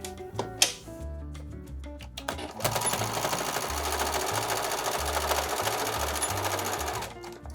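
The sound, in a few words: sewing machine stitching darts with backstitch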